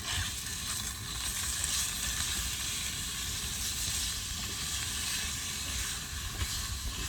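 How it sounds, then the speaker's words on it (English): A steady, loud sizzle of chicken frying in a hot pan at a campsite, continuous hiss filling the whole stretch with no talking. "Already you can hear that sizzle."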